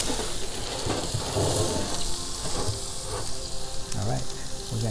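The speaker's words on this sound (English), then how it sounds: "listen to that sizzle" Steady crackling sizzle of lamb chops cooking at high heat in a gas pizza oven, a dense hiss with occasional pops and soft clatter, close and continuous.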